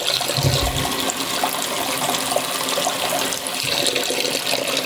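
Hot water gushes and splashes steadily into a container, a continuous close, fairly loud liquid pour with no voices.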